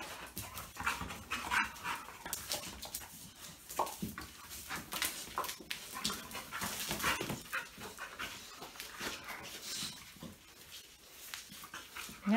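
A dog pants and whimpers while playing with a pit bull and a female Dogo Argentino, quick breathy pants and soft whines nearby, with scuffling movement throughout and no talking.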